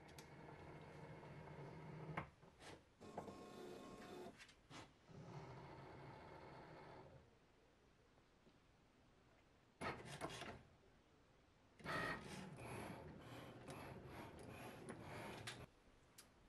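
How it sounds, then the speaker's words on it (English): A Cricut cutting machine cuts bat decals from cardstock, giving faint, intermittent bursts of mechanical whirring and scraping separated by short quiet gaps. "Now we have our Cricut light blinking so we can hit play or hit cut"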